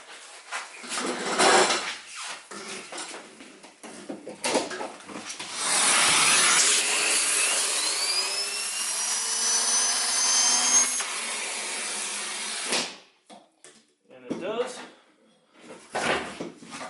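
A Wessel Werk TK 286 / Miele STB305-3 TurboTeQ turbo brush for a central vacuum, under repair, spins up for several seconds with a steady whirring motor hum and rising whine, with talk before and after.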